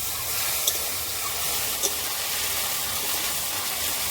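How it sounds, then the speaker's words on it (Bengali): Fish curry masala with turmeric and salt sautéing in oil, a Bengali river kain fish red curry: a steady broadband sizzle runs throughout, with two faint clinks from the pan, no talk. "আর একটু একটু করে হলুদ আর লবণ দিয়ে দেবো। তেল বার না হওয়া পর্যন্ত ভালো করে কষাবো।"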